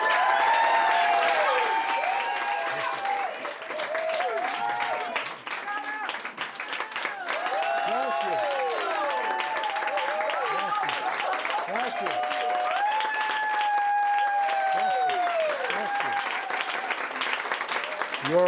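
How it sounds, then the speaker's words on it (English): Audience at a book launch reading breaks into sustained applause, dense and steady clapping filling the room for the full stretch, with a voice speaking over it. "Your applause will reverberate all the way home."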